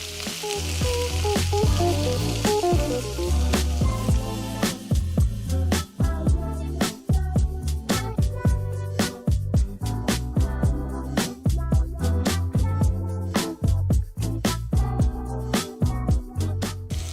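Lamb loin chops sizzle steadily in a frying pan, a dense close crackle of fat with sharp pops and spits throughout, no talking over it.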